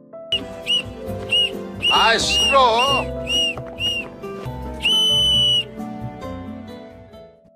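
Several shrill whistle blasts sound in bursts, some wavering and some long and steady, loud and close, with a brief spoken line in between.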